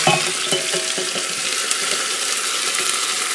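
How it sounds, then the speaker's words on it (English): Onion sizzling and frying in hot oil in a pan for a beans stew, with steady loud crackling and a few scraping stirs early on, no talk. "Okay, so now I toss in and start to stir."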